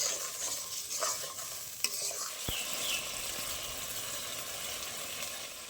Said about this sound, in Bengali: এবার দইয়ের সাথে ভালো করে মশলাটা কষিয়ে নেব।